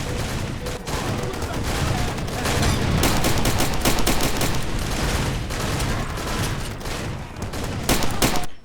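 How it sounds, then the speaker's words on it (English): In the Far Cry 2 video game, a dense gunfight between two factions outside a hotel keeps up loud, continuous automatic fire and overlapping shots, sharp cracks peppering the dull roar throughout. "you can hear shooting outside the hotel"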